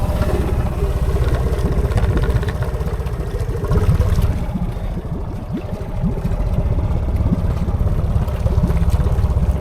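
A Honda Pioneer 500 UTV, 2015–16 model with a snorkel mod, idles in gear while sitting deep in water, its exhaust submerged; a steady close rumble mixed with bubbling and gurgling throughout.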